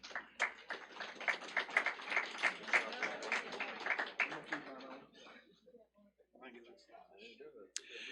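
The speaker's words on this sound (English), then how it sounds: "give them a round of applause, please." A modest crowd at a career and technical education letter-of-intent signing day claps in sparse, distinct slaps for about four seconds before thinning out. Voices talk over and after the clapping in a quiet room.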